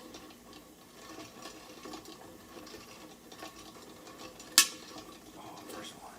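Kettle corn stirred slowly in a pot, a steady low scraping and faint rattle of utensil on metal, with one sharp clink partway through; close and fairly quiet, no other sounds on top.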